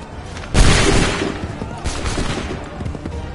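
A musket volley fired by a line of soldiers in Assassin's Creed III, a loud booming blast breaking out near the start, then a rolling, crackling tail of scattered shots and smoke-heavy rumble.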